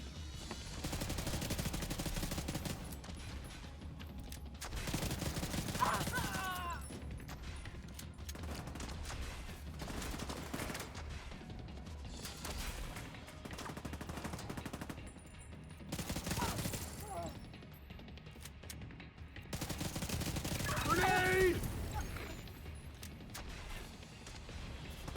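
Video game gunfire crackles through a combat mission as continuous bursts of automatic fire and booms, dense and steady throughout, with occasional voices underneath.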